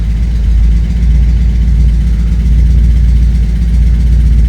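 Loud, close idle of a Porsche 944 Turbo, recently revived after a no-start fault, holding a steady low throbbing engine note throughout.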